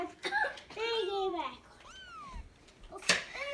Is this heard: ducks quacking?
no